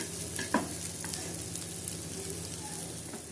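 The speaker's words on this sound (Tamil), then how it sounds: "சேப்பங்கிழங்கு நல்லா ரோஸ்ட் ஆகிடுச்சிங்க" Taro root (seppankizhangu) roasting in a pan, a steady low sizzle with faint stirring scrapes and a couple of brief clinks, close and fairly quiet with no talk.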